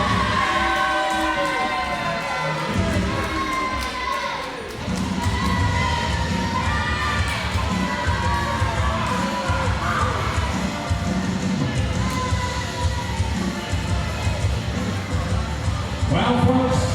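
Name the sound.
wrestling crowd shouting and reacting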